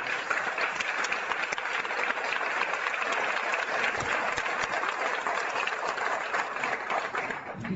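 Audience applause at a talk, sustained and even, a dense wash of many hands clapping from start to finish at moderate distance.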